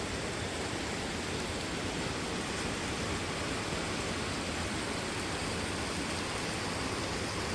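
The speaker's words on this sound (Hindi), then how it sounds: "रात का टाइम है और इतनी तेज़ बारिश हो रही है, आपको आवाज़ से समझ आ रहा होगा" Heavy nighttime rain pouring down in Dehradun, Uttarakhand: a steady, dense, hissing roar with no breaks, even and unchanging throughout, heard on its own with no voices.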